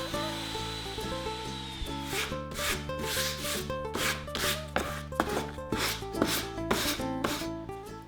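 A wood veneer top gets a light hand sanding, about a dozen quick rhythmic scratchy rubbing strokes, close and fairly loud over background music.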